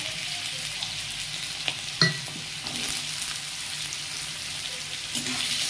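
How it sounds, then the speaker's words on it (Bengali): Small potato pieces fry in a mustard-oil tempering with dried red chillies, a loud continuous sizzle with an occasional clink of the spatula and a sharp stir near the start and end. "আলুগুলো ভেজে নিতে হবে ভালো করে।"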